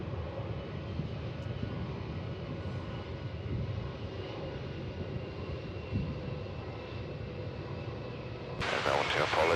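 A fixed-wing aircraft on approach to land at Melbourne Airport on runway 16, its engine a steady low rumble at moderate distance, with a burst of louder broadband noise near the end.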